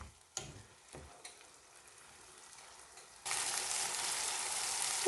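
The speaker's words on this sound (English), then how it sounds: "once the keema starts cooking, it is going to release its own liquid here. And then just continue to cook this on medium heat." Minced lamb keema cooking in a pan over medium heat, a soft crackle that swells into a loud, steady sizzle partway through, with a few faint clicks of utensils early on.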